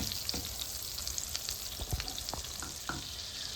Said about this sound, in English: the 60 grams of butter and I'm going to let that melt